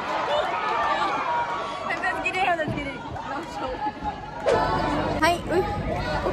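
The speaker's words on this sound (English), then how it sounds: "Look at the crowds there." Crowd chatter at Nagaland University, a steady outdoor babble of many voices mixed close and far, with a louder swell of nearby talk partway through.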